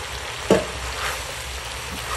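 Patola sponge gourd sautéing in a pan, a soft steady sizzle with a brief stirring clatter near the start, close and fairly quiet.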